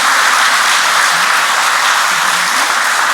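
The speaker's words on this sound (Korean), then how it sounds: "하나님께 영광의 박수 한번 드리겠습니다." Congregation applause in a church during a prayer meeting: a steady, dense wash of clapping fills the whole stretch at an even level, with no voices on top.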